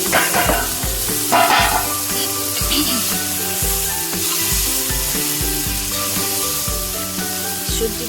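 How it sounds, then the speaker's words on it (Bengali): Bottle gourd and potato sautéing in a pan for a fish curry, a loud steady sizzle with frying crackle and repeated scraping stir strokes, close up and with no talk. "দিয়ে আরো ভালোভাবে কষানো হবে।"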